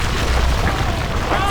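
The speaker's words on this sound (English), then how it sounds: "Use your earthquake power again on their fortress and it should take down the defenses" In the Battle for Middle-Earth II strategy game, an earthquake power strikes an enemy fortress with a deep, rumbling boom that sustains through a brief moment, thick and loud, with game sound layered underneath.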